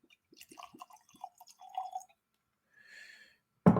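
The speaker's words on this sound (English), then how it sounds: "we're going to pour half this into that one." Bourbon is poured into a Glencairn glass, a short burst of bubbly, dripping glugs. A quieter trickle follows after a pause, and the clip ends on a sharp knock of glass set down close by.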